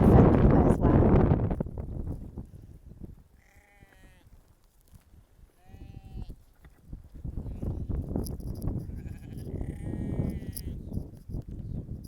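Shetland sheep bleating on a Fair Isle croft among a flock of about 70, with several distinct, wavering bleats in the middle and end, over noisy rustling and shuffling at the start and later.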